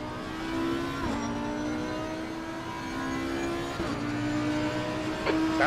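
Race car engine from a racing video game at the Nürburgring wails loudly, revving up through repeated gear shifts with sharp pitch drops, near and continuous with no voices.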